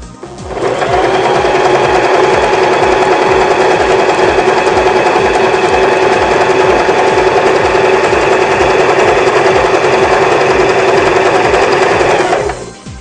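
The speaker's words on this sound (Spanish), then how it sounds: "Para realizar la costura de un resorte, ponemos nuestro selector en la letra G, correspondiente a la puntada tricot." Janome 1117S sewing machine running a tricot stitch over elastic, a loud, close, steady whirring drone that holds evenly for about eleven seconds before stopping.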